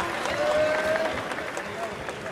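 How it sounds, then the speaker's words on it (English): A crowd claps at a Dreamcon event, with dense, steady applause and some cheering heard briefly throughout. "Let's clap it up."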